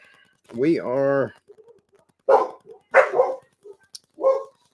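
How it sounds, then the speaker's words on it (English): A dog lets out a drawn-out whining yelp, then several sharp barks follow at irregular intervals, close by, in an otherwise quiet room. "There goes the dogs. It may get loud with them barking."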